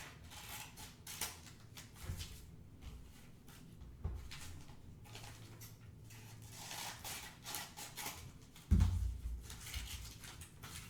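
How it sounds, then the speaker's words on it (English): Scissors cutting through paper folded into quarters, a faint series of irregular snips and rustling paper handling, quiet and close with one sharper knock near the end. "then you can go back in with your scissors"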